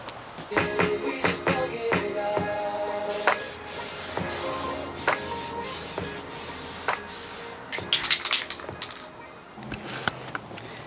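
A spray paint can sprays in several short hissing bursts, with clicks and rattles of handling between them, close by.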